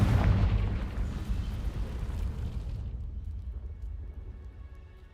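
A Confringo spell explosion in a Harry Potter video game: a loud, rumbling blast that starts at full strength and slowly fades out over several seconds, heard alone.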